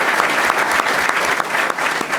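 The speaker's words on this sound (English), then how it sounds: "round of applause for Alderman." An audience gives a round of applause for an alderman at a public forum, dense continuous clapping filling the room close and loud from start to finish.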